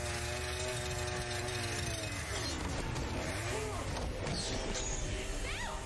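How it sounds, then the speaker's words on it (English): A chainsaw whines and buzzes at varying pitch during a movie fight scene, mixed with shouting voices and scuffling, the motor rising and dipping throughout. "I love a good chainsaw fight."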